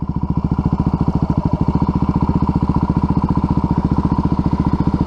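Steady buzzing of a group of motor scooters riding close by in Minneapolis, a rapid pulsing putter that holds constant throughout without any voices.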